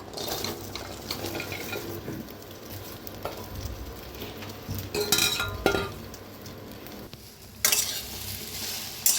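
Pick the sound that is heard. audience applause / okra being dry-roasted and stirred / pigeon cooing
okra being dry-roasted and stirred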